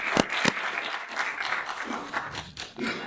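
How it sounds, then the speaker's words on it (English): Audience applause at a film expo session in the Eastern Cape, a dense wash of clapping with a few sharp louder bursts near the start, steady and moderately loud throughout the three seconds. "Can we please just give him a last round of applause?"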